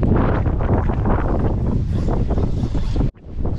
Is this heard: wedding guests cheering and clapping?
no